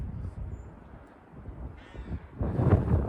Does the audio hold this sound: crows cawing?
yes